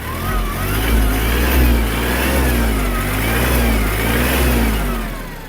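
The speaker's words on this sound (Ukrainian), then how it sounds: "Давайте додамо більше обертів." A Kubota KL-230 FL Japanese mini tractor's diesel engine revs steadily up to higher speed, holding a loud, continuous mid-pitched drone close by, with no voices.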